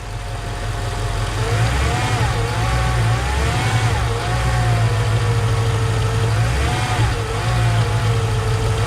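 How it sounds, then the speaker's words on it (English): A Mercedes E55 AMG with the supercharged M113K V8, just started after three weeks sitting, holds a loud, close rumbling idle with a few mild rises in revs and a whining undertone, steady throughout with no talking. "Give it some gas, Donnie, a little bit."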